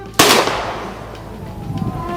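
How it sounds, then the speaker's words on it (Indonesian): A single sharp, loud rifle volley fired by a military honor guard at the state funeral of Indonesia's sixth Vice President, Try Sutrisno, cracking at once and ringing out in a long fading echo, followed by quiet outdoor murmur. "Rakabuming Raka tampak bereaksi tersentak saat tembakan salvo pertama dilepaskan dalam prosesi pemakaman militer Wakil Presiden ke-6 RI, Tri Sutrisno"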